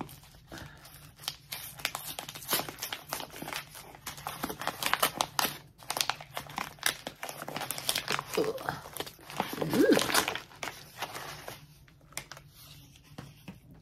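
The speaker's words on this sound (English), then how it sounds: "Here comes the rustling." Gift wrapping paper rustles and crinkles loudly as a soft Christmas present of yarn is torn open, dense crackling bursts running throughout with a louder flurry near the end, then fading.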